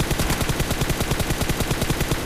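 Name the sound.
AWM sniper rifle gunshots in video game PUBG Mobile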